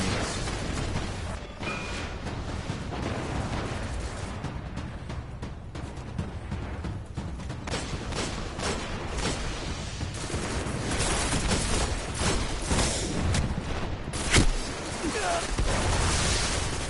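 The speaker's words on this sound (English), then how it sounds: "Fusion grenades." Fusion grenades exploding in the video game Destiny, a dense run of booms and blasts layered with game effects and music, with a voice talking over the mix.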